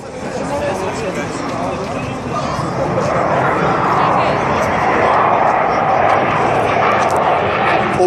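A MiG-29 jet engine roars loud and close during an airshow climb, the sound swelling and holding steady, with a voice speaking over it.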